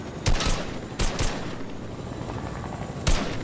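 Gunfire in Fortnite Chapter 3, several sharp loud shots in short bursts standing out against a steady rumble of game noise, with no talking.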